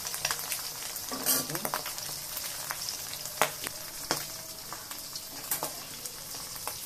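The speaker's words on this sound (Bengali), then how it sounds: "পেঁয়াজটা ভেজে নিচ্ছি, ম্যাগি মশলা দিয়ে দেবো।" Onions fry in soybean oil in a wok, a close, steady sizzle broken by sharp crackles and spatula scrapes against the pan.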